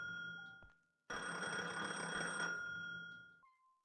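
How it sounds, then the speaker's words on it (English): A telephone ringing in the cozy mole-mining video game Gemporium, a bright electronic ring that starts after a short tone, holds for over a second and a half, then stops with a quieter beep. "Oh, it seems like the phone is ringing."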